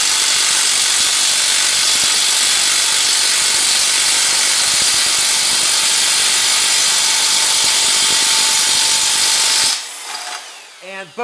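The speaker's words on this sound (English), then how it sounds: "just go ahead and use the impact wrench to tighten this bolt on there" An impact wrench hammers at a seized bicycle bottom bracket fixed cup in a loud, continuous rattling roar for about ten seconds, then cuts off into quieter tool and parts handling noises.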